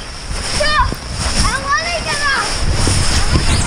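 Cold rainwater splashing in a front yard during rain and ice, a continuous spattering wash under excited shouting and talking throughout.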